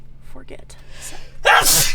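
A single loud, sharp sneeze bursts out inside a camper van in winter, right after a few quick spoken words.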